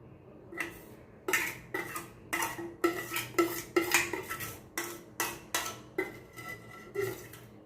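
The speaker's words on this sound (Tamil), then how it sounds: "இப்போ இதை நல்லா கலக்கி விட்டுட்டு ஒவ்வொரு பேஸ்லேயாக நம்ம ஊற்றிட்டு வரலாம் மோல்டில் ஊற்றிட்டு வரலாம்" A utensil stirs a charcoal soap mixture in a container and then pours it into moulds, making a series of quick, close scraping clinks in an irregular rhythm with short pauses between strokes.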